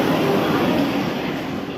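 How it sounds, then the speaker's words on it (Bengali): A Vande Bharat sleeper train rolls into the station with a loud, steady rumble of wheels and carriages that eases slightly toward the end. "এখন জাস্ট ট্রেনটা ঢুকলো।"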